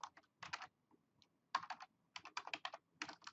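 Close clattering of fingers typing on a computer keyboard, in quick clusters of keystrokes separated by brief pauses, clear and alone in a quiet room.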